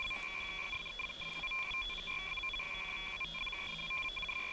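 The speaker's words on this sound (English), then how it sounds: "You ought to get a confirmation beep." A signal scanner in ArmA 3 gives off faint, steady electronic tones, with short high chirps near the start, heard quietly without any talk.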